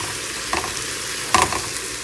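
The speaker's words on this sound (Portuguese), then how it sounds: "Nosso franguinho tá aqui fritando." Chicken fries in a pan in a home kitchen, a steady close sizzle broken by a couple of soft stirring clacks, with no talking.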